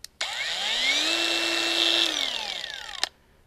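A Procraft PWA 220 angle grinder starts abruptly, whines up to a high steady motor pitch for about three seconds, then cuts off and spins down.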